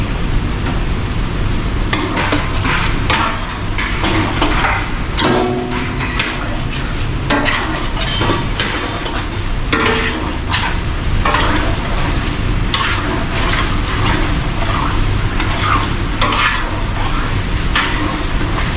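Butter sizzling and frying in a pan while being stirred, with a steady crackling hiss and repeated scraping stir strokes throughout, close and loud, no talk.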